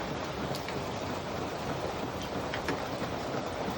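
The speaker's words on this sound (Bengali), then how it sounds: "এত বৃষ্টি পড়ছে" Steady, dense rainfall hisses without a break, heavy and close, with no voices over it.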